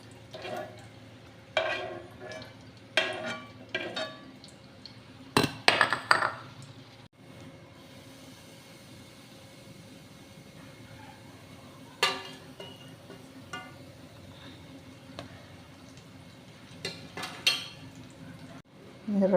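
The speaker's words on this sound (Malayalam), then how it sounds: "ഇനി ഇതിലോട്ട് നമുക്ക് റവ വറുത്തെടുക്കാം." Semolina (rava) roasting in a pan for pink rava laddoo, stirred with a utensil that gives scattered clinks and scrapes against the metal, with a few louder knocks over a quiet, steady kitchen background.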